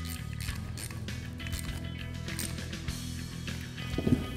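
A ratchet tightens a part of a coilover conversion kit for a 1968-1973 Mustang, giving a run of quick, close mechanical clicks that continue throughout.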